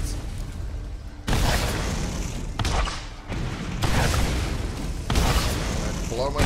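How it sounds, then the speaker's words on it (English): Rockets fire in Borderlands in a run of several loud booming bursts about a second apart, each with a rushing, rumbling tail, dense and close. "Now I have no other recourse but to shoot rockets"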